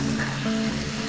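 Spice masala for a mutton and potato curry fries in the pot, a brief, close, steady sizzle with soft music tones running underneath.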